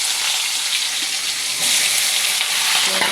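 Onions frying in hot oil seasoned with cumin seeds and bay leaf, a loud, bright, continuous sizzle that swells partway through as the pan is stirred, with no talking.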